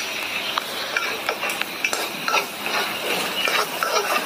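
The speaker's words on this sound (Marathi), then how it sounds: "चांगल्या प्रकारे स्लो मीडियम गॅस करून परतून घ्या" Homemade masala stirred and sautéed in a pan over slow-medium heat for a spicy vaam fish curry: steady close scraping and stirring strokes over a soft continuous sizzle.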